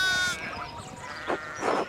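Sheep in the Pentiment video game bleat in two short, wavering calls near the end, following a brief sustained tone, with a soft ambient background.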